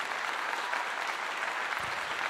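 Applause during a sports talk show post-game analysis of Colorado's win over Arizona, a brief, steady burst of clapping at moderate volume with no talk over it.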